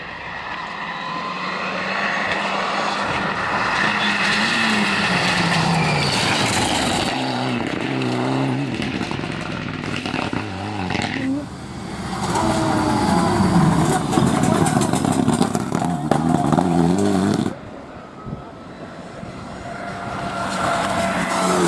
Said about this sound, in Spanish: ¡Coche!